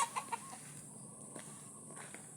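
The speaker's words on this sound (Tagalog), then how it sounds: "Manok." A farm chicken gives a few quick soft clucks at the start, then faint outdoor background noise continues without talking.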